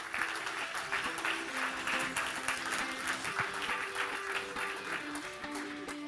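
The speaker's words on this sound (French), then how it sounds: "On l'applaudit, s'il vous plaît." Audience in a conference hall applauding a speaker introduced on stage, a steady patter of clapping sustained throughout, with faint voices underneath.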